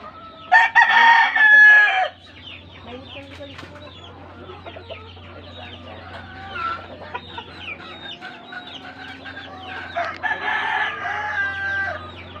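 A gamefowl rooster in a small backyard gives a loud, close crow in the first two seconds, then another crow around ten seconds, with faint clucks, birds and a low steady hum between.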